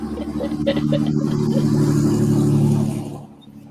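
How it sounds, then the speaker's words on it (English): A loud truck drives past outdoors, its engine rumbling steadily and close for about three seconds before the noise fades away. "There's a very loud truck driving by."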